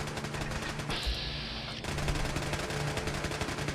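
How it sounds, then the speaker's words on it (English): Automated turrets in the video game Fallout 4 fire rapid, continuous bursts at close range, with a brief change in the firing for about a second before the rattling resumes at full volume. "The turrets are going crazy."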